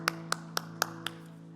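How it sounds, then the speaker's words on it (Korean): A church congregation claps, heard as five sharp separate claps at an even pace over a steady low hum, fairly faint and with no voices. "우리 하나님께 영광의 박수 올리겠습니다."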